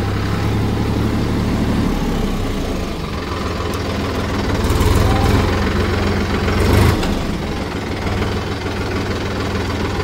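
A Mahindra Yuvo 475 DI Tech Plus 4WD tractor, 42 HP, runs steadily with a low, throbbing diesel drone and faint knocking, swelling briefly louder twice across the stretch, with no talking.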